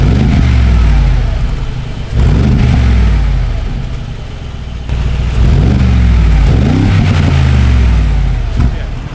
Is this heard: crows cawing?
no